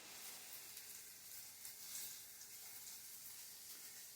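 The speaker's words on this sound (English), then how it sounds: "We are going to caramelize our tomato paste." Tomato paste caramelizing with garlic and oil in a pan gives a faint, steady sizzle with soft hiss throughout, no voices present.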